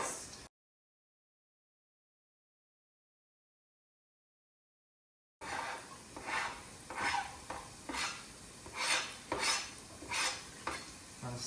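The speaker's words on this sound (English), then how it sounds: "I'll stir this around with the jalapenos and butter for about 30 seconds" Diced garlic stirred with jalapenos and butter in a pan, heard after a stretch of silence as repeated scraping strokes of a utensil with a light sizzle, fairly close.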